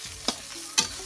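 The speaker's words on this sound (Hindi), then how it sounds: "अभी हम इस मसाले को इन्हें अच्छे से तल देंगे और ये शिमला मिर्च भी इसमें ही तल देंगे।" Spices and chopped capsicum for chowmein frying in a pan, a steady sizzle with two short scraping stirs of a spoon, no voices.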